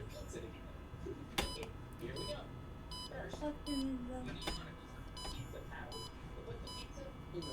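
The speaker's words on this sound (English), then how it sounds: "that's what causing the beeping" Walksnail FPV video system beeping in short repeated electronic tones at a regular pace, moderately loud over low background hum, with someone talking.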